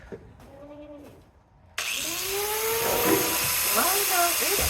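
A small, high-pitched power trimming tool, like a tiny chainsaw, whines loudly and continuously at a goat farm, with a faint voice heard briefly before it starts.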